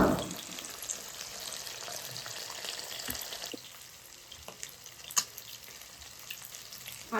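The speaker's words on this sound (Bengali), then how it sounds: "দেখুন এরকমভাবে ভেজে নেবে, বেশি লাল লাল করতে হবে না" Small amudi fish fry lightly in oil with a steady close sizzle that eases slightly midway, broken by a few sharp pops and spatters.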